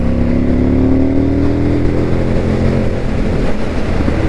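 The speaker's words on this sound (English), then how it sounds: "The joys of a motorbike." Motorcycle engine on a cold Saturday morning ride out west, a steady loud drone with a slowly rising pitch as it accelerates, heavy wind rush underneath and no talking.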